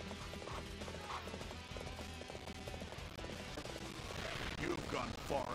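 Horse hooves clip-clopping during riding in Dynasty Warriors 7, a rapid galloping patter under battle noise and game effects, moderately close and steady throughout, with talking over it.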